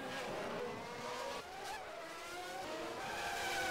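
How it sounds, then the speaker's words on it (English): Race car spinning out in a racing video game, with a steady engine roar and skidding tire noise running throughout at a constant loud level, briefly dipping near the middle. "gets on the gas a bit too early. And that results in a spin"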